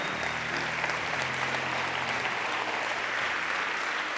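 A church congregation at a Christian congress applauds during a sermon, sustained dense clapping spread through the hall at a steady level, with a low hum beneath it.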